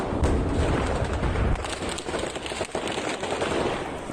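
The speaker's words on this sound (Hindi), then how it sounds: "उसी वक्त अचानक से बहुत तेज फायरिंग शुरू हो गई" Dense bursts of heavy gunfire crackle and pop in rapid succession at a street march, loud and chaotic, with a booming rumble early on.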